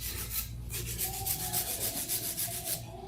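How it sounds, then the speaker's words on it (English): A hand file rubs back and forth across an acrylic nail surface in quick, regular rasping strokes, close and steady, with no talking. "You want to use a hand file because you don't want to use a metal drill and try to mess up the shape."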